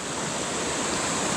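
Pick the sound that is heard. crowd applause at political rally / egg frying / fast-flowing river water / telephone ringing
fast-flowing river water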